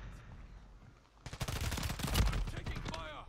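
Rapid bursts of automatic gunfire in a video game, starting faintly and then breaking into a loud, sustained string of sharp shots with a trailing whine near the end.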